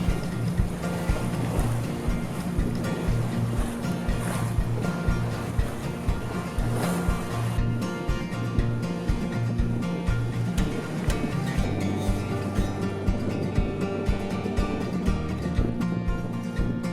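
A sailboat on a beam reach cuts through waves in variable 5 to 12 knot wind, with a continuous close rush of water and wind and rhythmic wave slaps against the hull.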